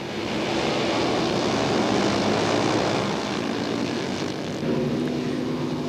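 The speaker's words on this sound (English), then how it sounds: "That noise you hear in the background, that's that rolling thunder that's very, very familiar with half-mile dirt track motorcycle racing." Half-mile dirt track motorcycle racing, a field of twelve bikes roaring together as a continuous, loud, droning rumble that swells and eases slightly over several seconds, with no talking.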